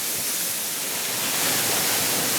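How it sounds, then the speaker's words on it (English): Waterfall in Furong Town, the Tujia settlement built on a waterfall, heard from right underneath: a steady, dense roar of falling water that is loud and close, with no break and no voices. "So here we are right under the waterfall. It's quite a bit of water dropping down."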